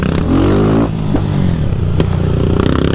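A 160 motorcycle revs hard with the clutch cut, loud close engine bursts rising and dropping in pitch with clattery mechanical ticks between throttle blips.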